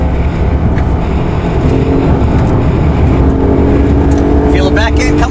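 Loud, steady engine and road roar from a Lexus IS 250 all-wheel drive being driven hard around a race track, with someone talking throughout over the constant drone.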